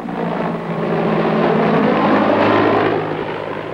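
An attack helicopter gunship flies past, its steady rotor and engine roar loud and continuous, swelling slightly in the middle before easing off, with no voices.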